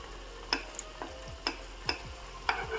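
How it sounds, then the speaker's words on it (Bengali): Fried eggplant being mixed into a spice masala in a pan: a low background sizzle under a series of sharp, evenly spaced spatula scrapes and taps against the pan, about six in under three seconds. "এবার বেগুনগুলোকে মশলাটার মধ্যে ভালো করে মিশিয়ে নেব।"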